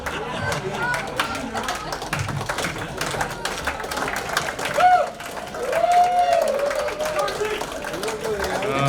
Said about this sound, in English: That's a pity clap, I can tell right now.